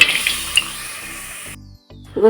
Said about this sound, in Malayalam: ചരുവത്തിലേക്ക് ഒരു രണ്ട് ടീസ്പൂൺ നെയ്യ് ഒഴിച്ചു കൊടുത്തിട്ടുണ്ട് അതിലേക്ക് ശർക്കര ഇട്ടിട്ടുണ്ട്